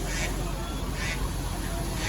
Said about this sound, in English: Those darn ducks.